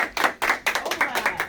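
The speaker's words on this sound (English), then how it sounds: "Give them an applause." A short run of about eight crisp hand claps in an uneven rhythm, sounding like only a few people clapping close by rather than a full crowd.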